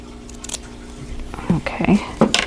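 Scissors snipping fabric at the seam of a Christmas applique table runner, a few short crisp cuts close by, partly under soft talking.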